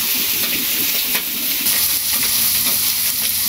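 Fish sizzles and fries steadily in a pan in a village kitchen, a continuous close hiss with faint crackles and stirring, and no voices.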